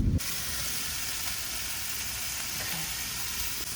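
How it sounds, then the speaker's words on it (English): Spanish rice sizzles and fries in a pan at a rainy campsite, a constant close crackling hiss with a brief thump at the start and faint clinks of stirring. "I'm making Spanish rice in the rain."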